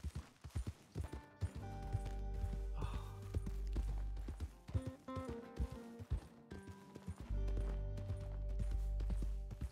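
Steady clip-clop of horse hooves plodding along in Red Dead Redemption 2, set against sustained musical tones and a low rumble, moderately loud throughout.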